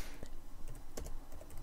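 Quick burst of keystrokes on a computer keyboard while a file name is entered, close and clicky with a soft background hiss and no voices.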